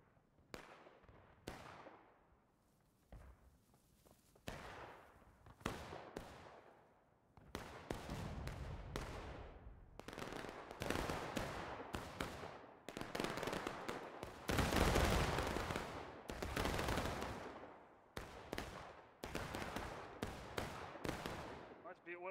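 Musket volleys in the War of Rights Civil War game crack out in many sharp, echoing shots, scattered at first and then dense and loud, with voices talking between them.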